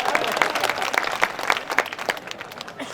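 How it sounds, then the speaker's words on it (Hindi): Applause from the crowd at a BJP party workers' political rally in India: a burst of rhythmic clapping that fades out over a few seconds, with a voice briefly audible beneath it. "ताली वाली है।"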